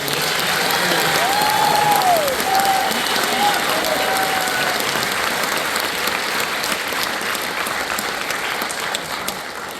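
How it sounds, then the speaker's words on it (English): Eighth grade graduation audience gives a sustained round of applause, loud and even throughout, with cheers and voices mixed in and a brief whistle-like call near the start. "How about another round of applause for Bo and Bailey?"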